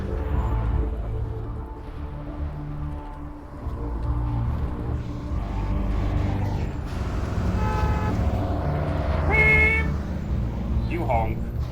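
A car horn honks a couple of times in a driving video game, short bright toots sitting over steady engine and traffic rumble, with someone talking throughout.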